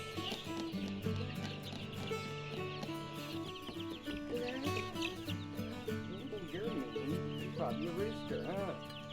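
Chickens kept in heated brooders clucking and calling in a busy, cluttered mix with other farm animal sounds, steady and fairly loud throughout.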